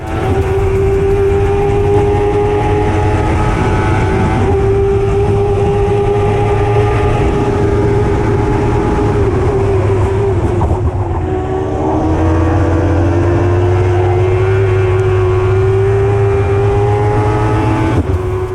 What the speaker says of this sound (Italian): Quindi tento il sorpasso su Azzori alla prima curva.